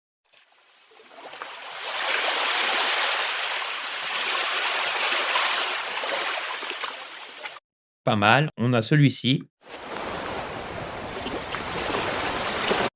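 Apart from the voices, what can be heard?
beach waves sound effect from Filmora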